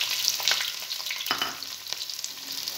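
Onions frying in a mix of ghee and oil for a home chicken biryani, a loud, close, continuous sizzle and crackle with small popping bursts and no voices.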